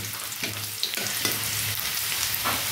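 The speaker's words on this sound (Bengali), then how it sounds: "তেল একদম গরম হয়ে গেছে, আর আমি দিয়ে দেবো আদা রসুনের কুচিটা দিয়ে দেবো বন্ধু" Chopped ginger and garlic dropped into very hot oil for street-style veg chowmein, a dense, loud crackling sizzle with a few stirring knocks, close and steady, with no speech.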